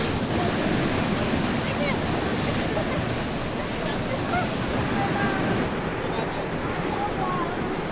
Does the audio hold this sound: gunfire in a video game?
no